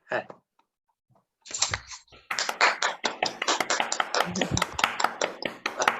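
After a brief pause, an audience breaks into sustained, lively applause with many hands clapping close and loud.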